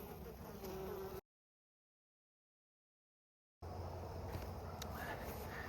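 Honey bees buzz around a hive frame of capped brood and drone cells. A soft, steady drone is heard close by, cut by a stretch of total silence before it resumes.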